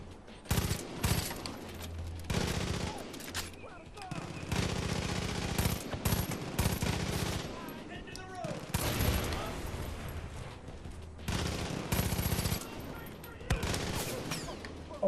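Gunfire aimed at the player in Far Cry 5, with repeated rattling automatic bursts and shots of varying loudness over continuous game noise, and someone talking at times.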